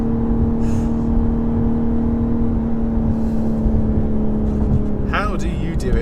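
A 2023 BMW M4 Competition xDrive pulls hard with a loud, steady engine drone inside the cabin, and a quick shift-like chirp arrives near the end.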